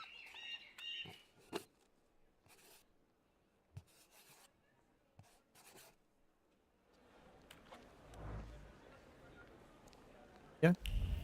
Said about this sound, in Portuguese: Passarinho?